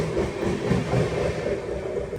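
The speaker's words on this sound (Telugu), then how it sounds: "ఇప్పుడు వెళ్ళింది కదా ట్రైన్, లాల్గఢ్ నుంచి ప్రయాగరాజ్ అయితే వెళ్తుంది." A Lalgarh to Prayagraj train passes close by, its steady broadband rumble and rail clatter loud and continuous throughout, with no voices.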